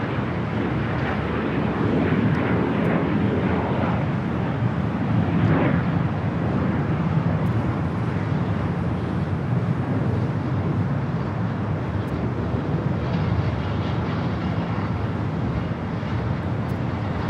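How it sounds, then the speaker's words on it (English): Hawaiian Airlines Airbus A330-200 arriving at Los Angeles airport from Honolulu, a steady broadband jet roar with wind buffeting, continuous and fairly loud throughout. "This arrival is Hawaiian Airlines Flight 10 coming in from Honolulu on the A330-200."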